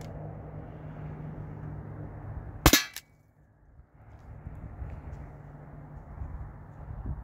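A modded T4E HDP50 pistol fires a steel ball toward an aluminum panel, producing one sharp, loud crack that cuts through a steady low background hum and is followed by a brief moment of near silence.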